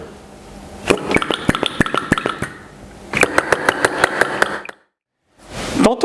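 Small flame-licker vacuum engine running after its flywheel is spun by hand, giving rapid, evenly spaced sharp clicking puffs in two bursts separated by a brief silence, close and fairly loud.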